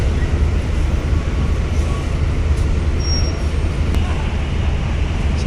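A Sahara Trans bus passing at Bakauheni port, a loud steady low rumble of heavy engine and road noise that fills the whole stretch, with a brief faint high squeal partway through.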